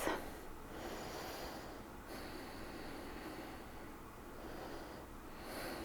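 Slow, forceful exhalations from a purifying breathing exercise, a soft airy rush repeating in long, even breaths, close and alone with no talk.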